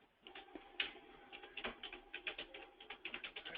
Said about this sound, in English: I'm going to come up here and type in ethnic group